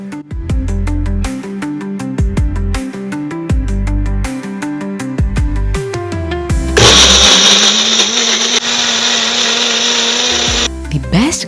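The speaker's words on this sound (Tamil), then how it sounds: "பன்னீர், ஒரு சீஸ் ஸ்லைஸ், சால்ட், பெப்பர், கொஞ்சம் தண்ணி ஊற்றி மிக்ஸியில் அடிச்சிடலாம்." Mixer grinder blending paneer, a cheese slice, salt, pepper and water, starting with short pulsed bursts, then settling into a loud continuous high whir for several seconds before cutting off.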